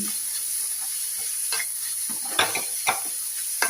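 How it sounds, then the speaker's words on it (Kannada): Dosa batter being stirred with spices in a bowl, soft scraping strokes with a few sharper clinks of the spoon near the end, close and fairly loud with no voice. "ಚೆನ್ನಾಗಿ ಮಿಕ್ಸ್ ಆಗಬೇಕಿದು ಮಸಾಲೆ ಎಲ್ಲ ಹಾಕಿದ ಮೇಲೆ"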